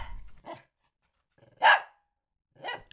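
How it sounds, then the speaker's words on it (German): A small dog barks from behind a closed door, three short separate barks spaced over a few seconds, muffled but fairly clear with silence between them. "Ein kleiner Hund bellt hinter der Tür. A small dog barks behind the door."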